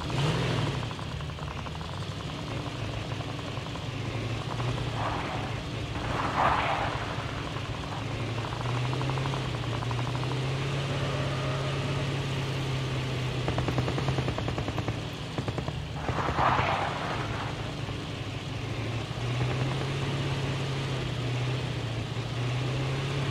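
Call of Duty Mobile: a vehicle engine drones low and steady and rises in pitch partway through. Two louder bursts are mixed in, likely gunfire or impacts, with no talking over it.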